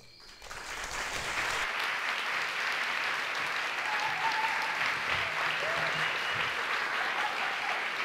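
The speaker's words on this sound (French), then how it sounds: "Merci d'applaudir très fort Monsieur Garcin" An audience at an evening storytelling show bursts into applause after a short quiet start, then keeps clapping loudly and evenly for several seconds to welcome a masked performer.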